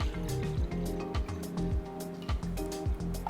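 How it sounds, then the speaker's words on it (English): Full-cream milk is poured into a saucepan, a close gurgling, glugging stream with repeated rhythmic pulses that sounds alone. "Pour the milk into the saucepan"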